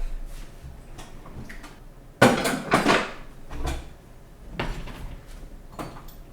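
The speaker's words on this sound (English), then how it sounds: "So we're going to get a fry pan." A metal fry pan is pulled out and handled in a kitchen: a sudden clattering bang followed by rattling and scraping, then several lighter knocks and clinks, fairly close and with no talking.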